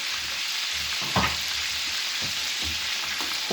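Butter sizzles steadily in a hot pan around a beef steak topped with garlic, a dense close crackle with a few soft clinks and bumps, and no talking.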